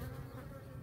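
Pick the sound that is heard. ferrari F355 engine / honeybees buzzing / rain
honeybees buzzing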